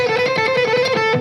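A distorted electric guitar plays a fast, repeating reverse picking pattern, each note sharply attacked in a steady rhythm, loud and close with no voices.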